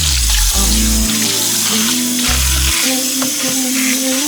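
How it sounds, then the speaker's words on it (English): Running water pours steadily as washed hair is rinsed under a tap at a salon sink, a loud continuous splashing hiss with the flow shifting slightly as the hair moves through it. "We're gonna rinse that."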